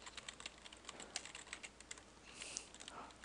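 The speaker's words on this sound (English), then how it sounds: "I'll just type it out." Rapid, irregular keystrokes on a computer keyboard while a Java store-menu program is entered at the command prompt. The clicks are faint, close and steady, with no voices.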